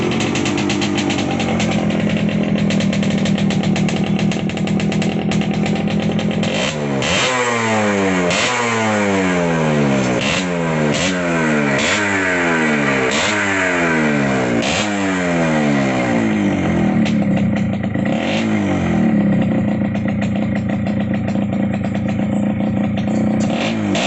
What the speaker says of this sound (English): I'll just restart the bike and show you the sound